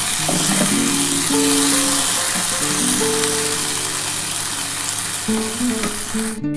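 Soybean chunks and potato frying in a pan with poppy seed paste, a loud continuous sizzle and crackle with steady spattering throughout, no voices.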